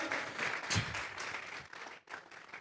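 Church congregation applauding together in a dense, steady wash of clapping that swells briefly, dips to near silence, then resumes, close and full.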